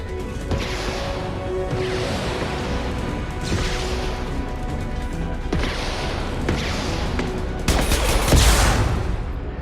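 A hacked turret in a video game fires continuously, with rattling automatic bursts, crashing impacts and sharp whooshes layered over a dense battle din, swelling loudest near the end.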